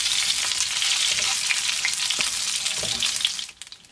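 Chicken tocino frying in a pan until golden brown gives a loud, dense, continuous sizzle with crackling pops, thinning out abruptly near the end.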